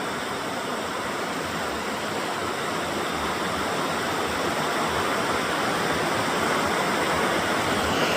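Continuous rushing of water flowing over partly frozen, icy rocks in Scotland, a steady broadband roar without pauses or voices.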